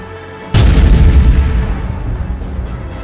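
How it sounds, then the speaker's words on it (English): A single heavy explosion from a comic dub's sound effects bursts in suddenly and loudly, then rolls into a long, deep rumbling decay that fills the rest of the moment with no talking. "those chaotic explosions haven't reached there yet"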